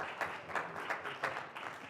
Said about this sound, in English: That's the biggest applause.